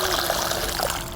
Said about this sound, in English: So I'm going to put my water in here first.